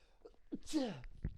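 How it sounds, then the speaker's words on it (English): A single short sneeze, fairly close and not very loud, with brief breathy sounds just before and after. "Relax. It's just a fucking sneeze."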